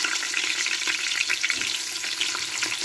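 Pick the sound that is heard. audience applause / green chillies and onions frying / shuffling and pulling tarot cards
green chillies and onions frying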